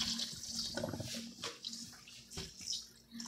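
Homemade salted eggs, cured three weeks, are washed in cold running water at a sink, giving a close, continuous splashing and trickling with changing gushes.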